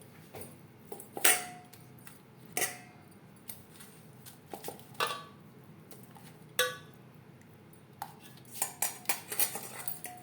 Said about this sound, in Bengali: লবণ হলুদ দিয়ে মাছ বেশ ভালো করে মেখে নেব।